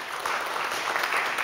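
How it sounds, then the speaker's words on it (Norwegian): Audience applause greets a guest speaker at a Norwegian energy seminar, a short, steady burst of dense clapping close by with no talk over it. "Gi han en god applaus, Laurent Georges."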